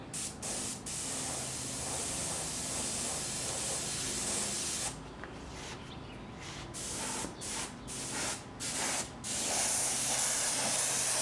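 A model airplane is spray painted in light coats: a sustained loud hiss, then several short separate spray bursts with brief quiet gaps between them, heard up close and alone.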